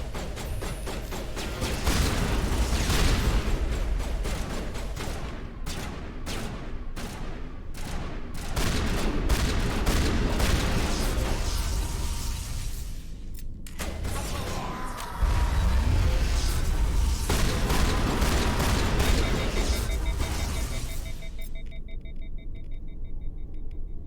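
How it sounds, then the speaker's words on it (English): Extended combat in Mass Effect 1 with a shotgun in use: a string of heavy, evenly spaced blasts and crackling volleys over a deep constant rumble, pausing briefly midway before loud bursts resume and then fade into ambient hum. "this definitely calls for a shotgun"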